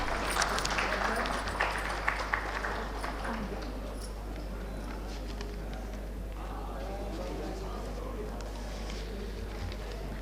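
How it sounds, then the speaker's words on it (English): Audience applause at an urban infrastructure conference, sustained clapping from a crowd in a hall, steady and moderately loud throughout. "Can we please have a big round of applause,"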